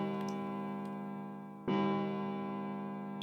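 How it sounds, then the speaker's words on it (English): A single bell strike from the clock at the central staircase in Zero Escape rings out cleanly, its bright tone sustaining and slowly fading over a soft musical background with no voices. "Somewhere he heard a bell ring. It was the clock at the central staircase."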